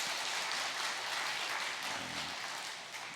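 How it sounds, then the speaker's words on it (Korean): Church congregation applauding at a family dawn prayer service, a dense, steady wash of clapping from many hands filling the room, fading slightly at the end. "우리 박수 한 번 더 하겠습니다."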